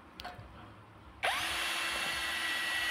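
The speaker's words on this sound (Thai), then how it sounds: "เรามาร์กตำแหน่งที่เราจะเจาะแล้วก็เจาะยิงได้เลยนะครับ" A power drill fitted with a freshly sharpened bit suddenly spins up after a quiet moment of small clicks and handling noise. It then runs at a steady, loud whine with no talking.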